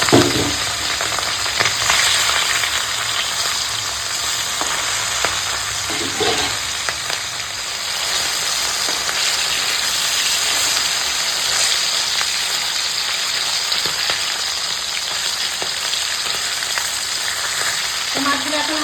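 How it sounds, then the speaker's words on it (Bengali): Hilsa fish pieces fry in hot oil with a loud, continuous sizzle. It is close and unbroken throughout, with occasional soft stirring sounds. "এখন ইলিশ মাছগুলো তেল গরম হয়ে গেছে হালকা ভেজে নেবো"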